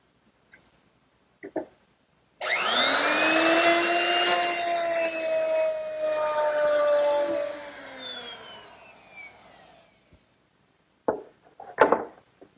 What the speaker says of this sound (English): using a nice straight edge, which is clamped in place so that the router can ride against it, I'll plow out each groove using a 1/2 inch mortising bit